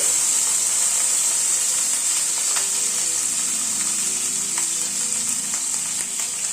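Boiled onion paste hits hot oil in a pan with potatoes, for a matar paneer dish, giving a constant close sizzle with faint scraping and occasional soft clicks throughout.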